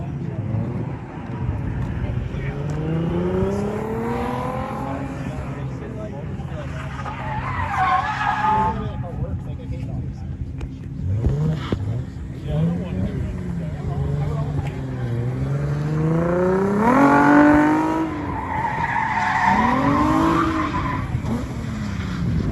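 Drift cars at a Hard Park competition at NOLA, tires squealing in long, repeated skids as the cars slide, loud and close, while people talk over the noise.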